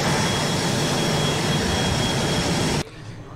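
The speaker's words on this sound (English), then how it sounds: "Let's go ahead and turn off the engines here." Cessna C510 Mustang twin jet engines running in a flight simulator, a loud steady whine and roar held for a few seconds, then cutting abruptly to a quieter fading hum.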